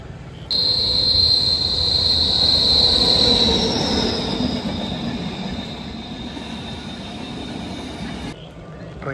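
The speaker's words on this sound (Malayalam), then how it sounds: "എത്തി നമുക്ക് പോകേണ്ട ട്രെയിൻ എത്തി" A passenger train pulls into a railway station platform, its wheels letting out a loud, sustained high squeal over the rumble of the carriages, then easing into a steady rolling drone as it slows.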